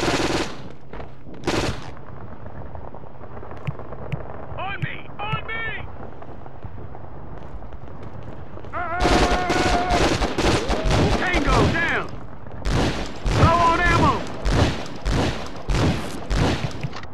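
Rapid automatic gunfire bursts from the PS2 shooter Conflict: Global Terror, sparse shots early then dense, loud volleys from about nine seconds on, with shouted game voices mixed in.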